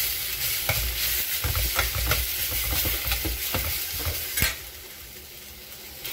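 Onion and tomato being sautéed in oil in a pan for tomato gotsu, with a steady sizzle and brisk repeated spatula scrapes and stirs, close and moderately loud, easing toward the end.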